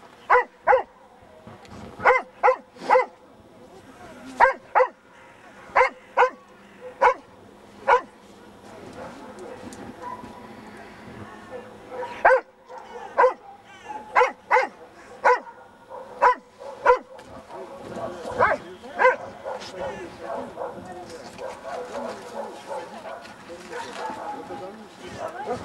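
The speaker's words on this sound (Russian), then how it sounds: "пусть она побольше полает" Dog barking repeatedly during working-dog training, with a long series of loud, sharp barks in uneven bursts and occasional yips, and people talking in between.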